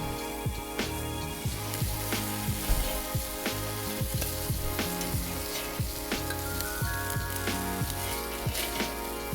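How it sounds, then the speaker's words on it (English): Kraft Butcher burgers sizzle on an outdoor summer barbecue grill with a steady crackling hiss. Sharp pops are scattered through it, and music plays in the background. "to go with the burgers that David has just barbecued"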